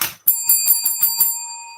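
A bicycle bell rings in a quick series of about six bright, metallic dings at a steady rhythm, close and fairly loud, then fades out with a lingering ring.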